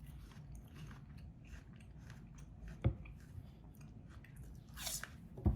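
A few crisp bites and crunches into an apple stand out against quiet chewing noise, sharp snaps near the middle and end.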